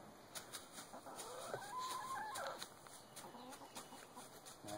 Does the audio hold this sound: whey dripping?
no